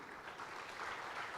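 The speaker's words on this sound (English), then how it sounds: "I would like you to give a round of applause to the eminent panel up here." Applause for a panel at a compliance symposium, a steady, fairly faint wash of clapping from the audience, heard at some distance.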